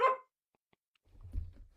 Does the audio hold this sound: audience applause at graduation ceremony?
no